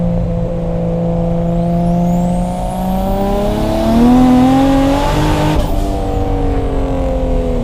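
A turbocharged RB-engine Nissan Skyline revs up steadily under hard acceleration, its rising whine climbing in pitch before a brief shift and continued pull.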